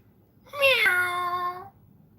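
A single cat's meow, clear and fairly close, rising then drawn out for about a second with a rich harmonic tone, set against a quiet room.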